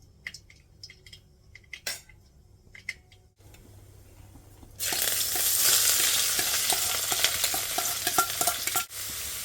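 Chopped green chillies, curry leaves and onions hit hot oil after a few quiet stirring clinks, setting off a loud, sustained sizzle that fills the rest of the moment before it briefly cuts out near the end.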